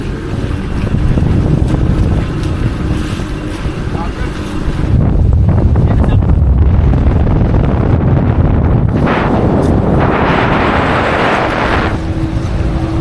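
Strong northeast amihan wind buffets a small boat at night on a fishing trip, roaring continuously across the microphone with gusts, while voices talk under it.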